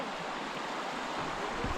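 Creek water rushing steadily beside a bike trail in Montana, a continuous broadband wash with no breaks, fairly close and constant throughout.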